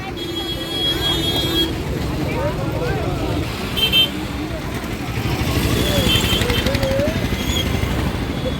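Road traffic crawls past the Tadakaleru Aswartha Narayana Swamy temple chariot festival, with repeated car horns honking over a continuous engine rumble while someone talks throughout.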